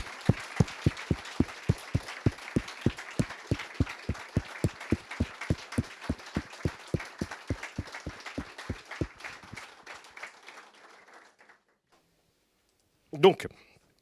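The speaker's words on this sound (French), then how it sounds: "je propose plutôt des applaudissements très chaleureux" Warm, steady rhythmic clapping from a conference audience at a colloquium in Reims, a dense run of claps that carries on for about nine seconds before fading and stopping, followed by a brief isolated thump.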